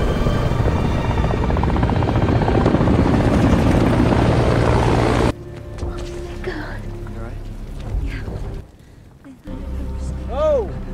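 A helicopter's loud, steady rotor drone fills the first half during a bombing attack in a film, then gives way to quieter mixed sounds with voices and effects.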